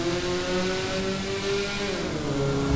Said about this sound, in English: Pathetic car, but it sounds good to some degree.